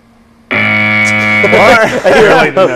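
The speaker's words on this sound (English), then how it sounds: "Moment of silence for the buzzer" A game-show style buzzer on a late-night comedy show sounds once, loud and sustained for over a second, then gives way to people talking and laughing.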